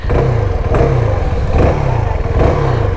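A CF Moto 250SR motorcycle engine runs close and loud while being ridden at dusk, with a steady throbbing drone and slight rises in pitch as it revs.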